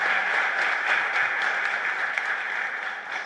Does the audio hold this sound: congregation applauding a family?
yes